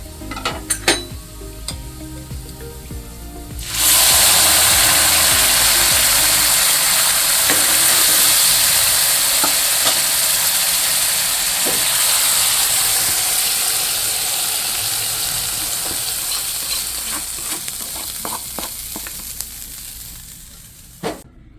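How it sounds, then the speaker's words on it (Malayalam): Fried shallot tempering is poured into a coconut-based sardine curry, setting off a sudden loud, close sizzle that holds strong and steady, fades slowly, and ends with a few small clinks. "അപ്പോൾ ഞാൻ ഉള്ളിയൊക്കെ താളിച്ച് ഒഴിച്ചിട്ടുണ്ട്."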